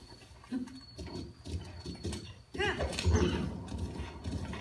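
Hoofbeats and a brief horse whinny in The Legend of Zelda: Breath of the Wild over a steady game soundscape, moderately loud and close, with some background murmur.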